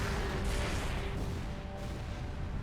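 Weapons fire in the Halo Reach video game forms a dense, continuous roar of booming shots, loud and close with no pauses.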